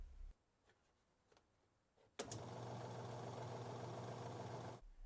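Kenmore washer on spin cycle with its drain pump motor switching on after a few quiet clicks, then a steady, fairly loud hum with a low tonal drone that runs for about two and a half seconds before cutting off.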